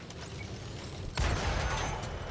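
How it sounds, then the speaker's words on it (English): A sudden heavy cannon blast from a tank in World of Tanks on console, with a broad booming rumble that rings on after a steady engine drone, no talk. "Get some auto-lock shots right into the back of this M46."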